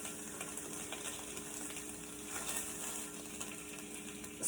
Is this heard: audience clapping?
no